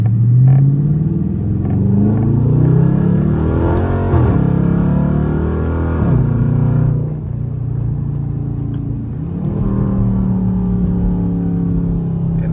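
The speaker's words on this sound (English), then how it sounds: "So you hit the gas and you downshift at the same time," A Dodge Charger's engine revs sharply during rev-matched paddle-shift downshifts, loud and close, with a deep rumble rising and falling in pitch across several blips, the last one dropping into a lower idle-like drone.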